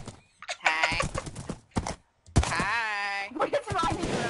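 Horse hooves clip-clopping in a video game, mixed with a horse whinny and thunks, heard alongside talking voices and game sounds, with a brief gap of silence midway.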